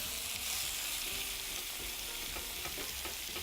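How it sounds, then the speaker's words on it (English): Meat browning in a hot frying pan gives a close, continuous sizzle with brief scraping and tossing sounds as it is moved around, no speech. "I'll get that browned up a little bit."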